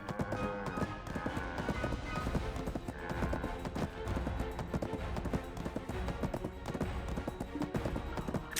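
Horse hooves clip-clopping in a video game, a steady, even clatter of hoofbeats at moderate distance over a constant background bed, with no voices.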